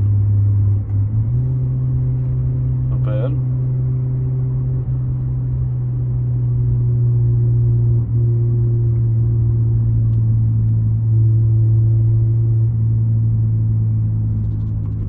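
A low exhaust rumble from a 2022 BMW 7 Series (G11) with a Thor exhaust drones steadily up close, holding a smooth, even tone with slight shifts in pitch and one brief click.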